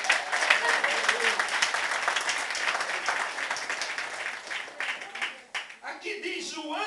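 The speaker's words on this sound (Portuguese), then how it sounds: "Quem pode aplaudir o Senhor?" A church congregation applauding during a worship service, a dense, fairly loud burst of many hands clapping that holds steady, then thins and tapers off near the end.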